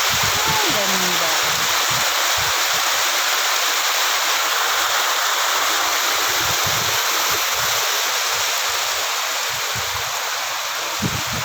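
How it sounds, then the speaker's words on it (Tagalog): Stream water flows steadily near a lagoon, a broad continuous rushing wash that stays loud and even for the whole stretch, with faint low thumps of handling underneath and no clear talk. "Ayan, tubig na yan."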